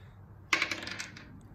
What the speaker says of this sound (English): So Sean, roll the dice